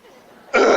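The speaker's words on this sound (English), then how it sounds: "how I love to burp" One loud, abrupt burp breaks a quiet pause and holds for a moment before the clip ends.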